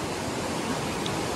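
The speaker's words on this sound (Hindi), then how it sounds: "पानी का फ्लो देखिए दोस्तों, क्या लग रहा है पानी।" Strong river current flowing under a broken old bridge from around 1933, a loud, dense, unbroken rush of water with no voices.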